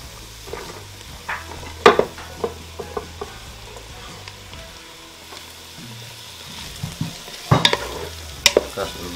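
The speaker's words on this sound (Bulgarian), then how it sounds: "Нарязахме си чушките и е време да ги добавим при лука и моркова." Chopped peppers frying with onion and carrot in a multicooker, a low steady sizzle broken by sharp clacks and scrapes of a stirring utensil against the pot, close up, no talk.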